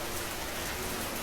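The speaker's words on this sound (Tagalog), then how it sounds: "palakas na ng palakas yung ulan" Heavy rain pouring steadily, a dense, loud, continuous roar of drops on surfaces with no pauses or voices.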